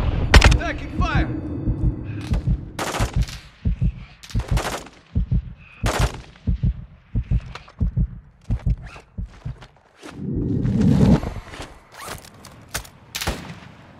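Gunfire in a Modern Warfare 2 online match: loud, sharp shots in irregular bursts and single cracks, with a rumbling stretch midway and speech heard between volleys.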